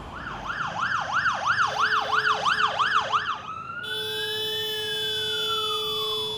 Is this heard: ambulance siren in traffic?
yes